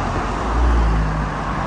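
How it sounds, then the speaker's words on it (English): Car traffic passes along a city street, forming a continuous loud roadway roar with a low engine rumble and no talking. "too many car noises"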